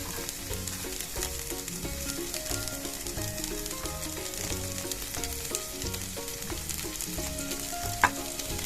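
Masala sizzles steadily in ghee in a pan for a Bengali mixed-vegetable moong dal, a dense continuous frying crackle with faint utensil taps and one sharp clink near the end.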